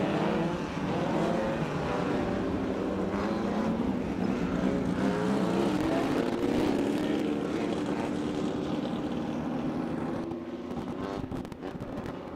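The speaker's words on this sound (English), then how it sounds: "getting an overhead shot of the cars as they come out on the racetrack" Short-course off-road race cars rolling out onto a dirt racetrack for the main event at a 2023 Great American Shortcourse round, a steady broadband engine roar held throughout, with a drone's propeller whine mixed in overhead, thinning slightly near the end.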